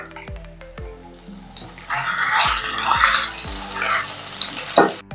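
Ginger pieces dropped into hot oil in a pan while cooking chicken cutlets, giving a steady close sizzle that swells and crackles for several seconds, with a few light clinks at the start.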